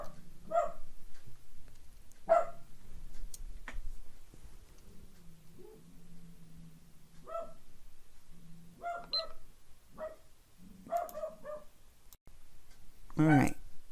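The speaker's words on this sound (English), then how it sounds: "And then he barks again." Indoor dog giving several short, sharp barks spread unevenly across the stretch, fairly close and loud, with a person talking in between.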